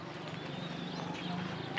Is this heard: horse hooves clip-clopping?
yes